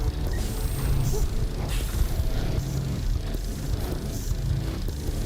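Medium printer in the game Astroneer printing an atmospheric condenser, a steady mechanical whirring and grinding with ratchet-like clicks running for several seconds at an even level.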